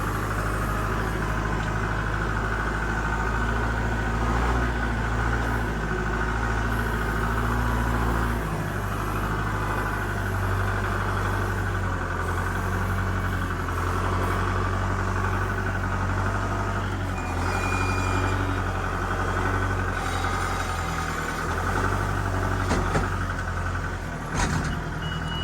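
Steady low engine rumble of a tractor idling outdoors on a rural Missouri property, continuous and fairly loud for the whole stretch, with a brief louder knock or clank near the end and no talking.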